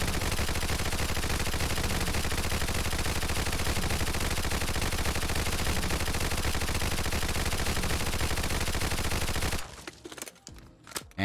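An American 180 submachine gun in Fallout 4, unmodified, with a 165-round magazine, fires as one long, dense, continuous burst. The loud rattle runs about nine and a half seconds, then cuts off into quieter game sounds.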